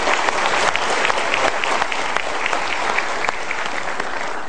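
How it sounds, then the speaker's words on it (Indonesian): A studio audience at a Mario Teguh Golden Ways motivational show gives a full, sustained round of applause, thick and continuous clapping with no talk over it. "Kita berikan tepuk tangan."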